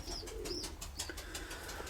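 Grey pigeons at their nest give soft, low coos, several short murmuring calls in quick succession, quiet and close with no voices present.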